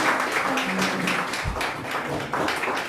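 Applause from an audience welcoming a speaker onto a stage, a dense steady patter of many clapping hands lasting throughout, fairly loud and close, with a faint voice underneath.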